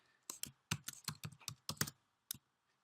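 Quick keystrokes on a computer keyboard while coding a web form, a close burst of about a dozen clicky taps in uneven rhythm, then a pause and one final press.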